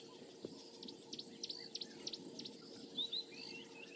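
Faint birdsong in the African bush on a morning safari drive, with repeated short chirps and a couple of rising whistles over a quiet hiss of insects and distant ambience.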